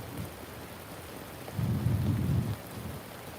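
Steady rain falls at an outdoor graveside service, with a low rumble of thunder swelling midway and fading again, no voices.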